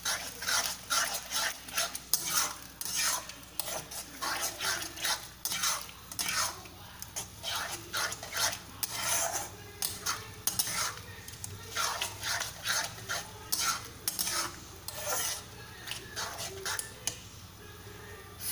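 Ash gourd halwa frying in ghee in a pan, stirred steadily with a spoon, producing continuous close scraping and clinking strokes over a soft sizzle throughout.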